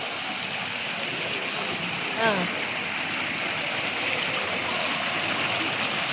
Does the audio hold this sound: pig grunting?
no